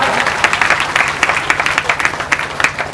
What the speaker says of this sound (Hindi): बधाई ताली जोरदार